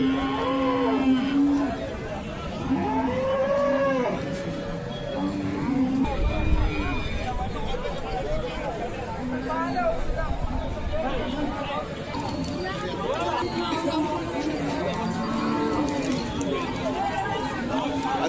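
A busy weekly cattle market at Gudibande, with cattle mooing repeatedly near and far over a steady crowd murmur and people talking throughout.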